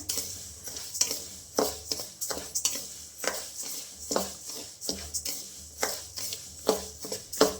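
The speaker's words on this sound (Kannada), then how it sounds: "ಇದನ್ನು ಚೆನ್ನಾಗಿ ಸ್ವಲ್ಪ ಬ್ರೌನ್ ಕಲರ್ ಬರೋ ಥರ ಹುರ್ಕೊಬೇಕು." Government-ration rice dry roasted in a pan until it browns, stirred with steady scraping strokes that repeat about twice a second, close and clear with no talking.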